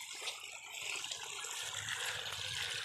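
Water gushes steadily from a hose fed by a water pump running out to a watermelon field, a continuous close rushing splash with faint low rumble beneath.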